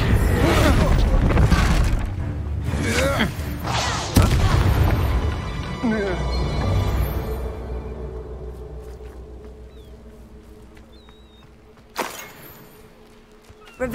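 Fiery Confringo spell blasts in Hogwarts Legacy: heavy booming bursts hit loudly in the opening seconds, with a sharp crack near four seconds and another near twelve, each trailing into a long fading rumble while voices speak over the action.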